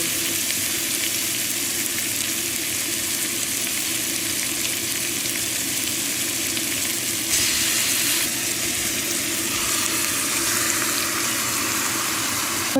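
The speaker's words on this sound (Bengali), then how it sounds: "দেখুন এখানে আমার চিকেনটা কুক করা হচ্ছে" Chicken pieces sizzle and fry in a grill frying pan, a steady dense hiss running throughout at close range with a brief brighter flare midway, no voices.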